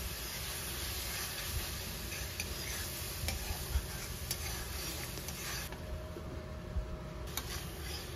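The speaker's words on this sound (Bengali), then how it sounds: "আমি কিন্তু আলুর সাথে মশলাটাকে কষিয়ে নিচ্ছি" Potatoes sauté with spice paste in a pan, a soft continuous sizzle with occasional stirring clicks and scrapes, quiet and close, without talking.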